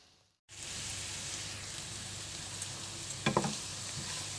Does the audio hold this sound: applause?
no